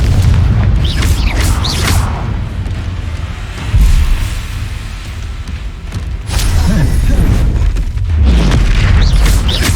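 Confringo fire spell bursts in Hogwarts Legacy combat, several heavy booming blasts at irregular intervals over rumbling battle noise, loud and close.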